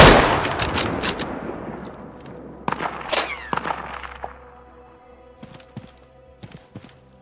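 Gunfire in the video game Deadside: a few sharp loud shots early, then scattered fainter bursts and single pops trailing off over several seconds, with no voices.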